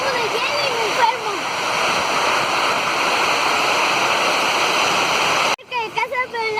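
Heavy rain and rushing water form a loud, steady roar, close and continuous, then cut off abruptly near the end with a few faint sounds after.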